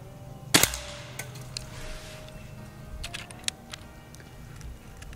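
A Beeman Underlever .177 PCP air rifle fires once at a can outdoors, a single sharp crack near the start, followed by a few fainter ticks and clicks in a quiet setting.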